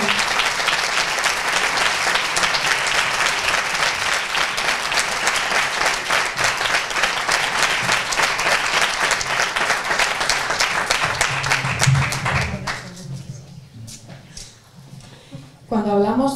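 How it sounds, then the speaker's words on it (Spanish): Concert audience at an outdoor town event in Andosilla giving a loud, sustained round of applause that fades after about twelve seconds, with some crowd voices underneath. "un fuerte aplauso para Javier."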